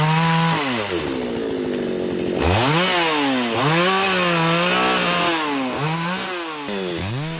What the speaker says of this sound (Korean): 기계톱이 닿자마자 우수수 떨어지는 나뭇가지들.